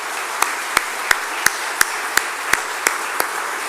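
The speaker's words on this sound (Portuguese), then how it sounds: "Vamos bater palmas para o Senhor Jesus Cristo?" Church congregation clapping hands together in a steady, unified rhythm, about three sharp claps per second over a faint murmur of background noise.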